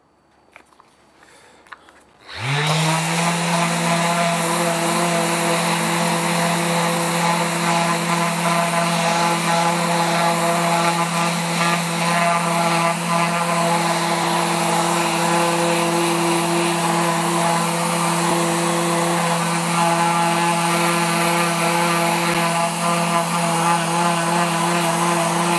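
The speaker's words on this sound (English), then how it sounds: "Sanding by itself will give you a lot of texturing too." A power sander working wood with 100-grit paper starts up after a brief quiet moment, then runs as a loud, steady, close-up mechanical drone with no pauses.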